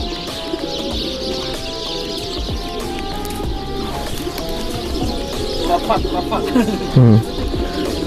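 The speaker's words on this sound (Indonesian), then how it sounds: "Ini burung. Burung-burung, halo, pigeon." Pigeons in Pigeon Valley, Cappadocia, in snowfall, coo repeatedly and close, with a louder burst of cooing near the end over steady outdoor ambience, a person talking in between.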